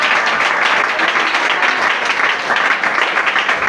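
A church congregation applauds and cheers loudly and without a break, a dense wash of many hands clapping together.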